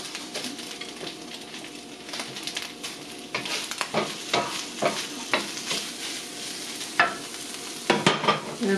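Browned zucchini sizzles in a hot pan as it is stirred, with a soft continuous frying hiss broken by scraping strokes of a utensil that grow louder and more frequent toward the end.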